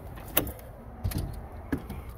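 A front door of a 5-bedroom house opens with a few sharp clicks and clunks of latch and handle, followed by a soft low thud, heard close in a quiet room with no talking.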